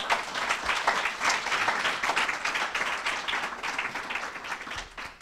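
An audience at a university lecture breaks into sustained applause welcoming speaker Michael Hanchard, a steady dense clatter of many hands clapping throughout, tapering slightly toward the end.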